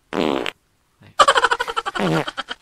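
A comic fart sound effect, a short blurt followed by a longer rippling, sputtering burst, loud and alone.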